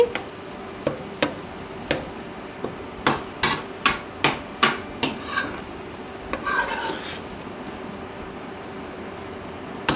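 A ladle stirs tomato pieces into a home-style eggplant and chicken tomato curry, sharp metallic scrapes and clinks against the pot coming in an irregular run, loudest midway, over a faint background hum.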